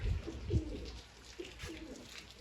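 Pigeons cooing close by, a few soft low throaty calls in short bursts over quiet background.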